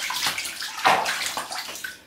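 Shower water runs and splashes while a French bulldog puppy gets a bath, an uneven spattering flow with sloshing surges, close and fairly loud.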